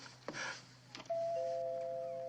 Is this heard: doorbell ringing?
yes